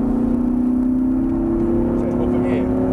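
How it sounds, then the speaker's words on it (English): A Lamborghini Huracan accelerates on a circuit at Prestwold Hall with a steady, humming engine drone close by, partly under a man's spoken instructions. "Start squeezing the gas on now, out towards the left-hand side,"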